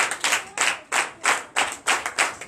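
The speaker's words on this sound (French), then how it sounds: "Donc je vous demande d'applaudir très fort." A church congregation at a Sunday service in Comè, Benin claps loudly in unison, heavy rhythmic bursts of hands striking together roughly every third of a second, close and full, with no voices over it.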